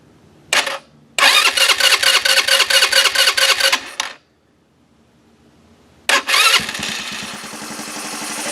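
A Chinese 150cc ATV engine with a no-start problem cranks loudly in quick rhythmic bursts with a silent pause between attempts, then catches and settles into a rough, steady idle, all close by with no talking.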